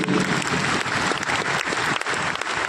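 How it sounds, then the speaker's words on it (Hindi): Steady, dense applause from an audience at a business event, continuous clapping filling the whole stretch at a fairly loud, even level. "एक जबरदस्त तालियां होने की"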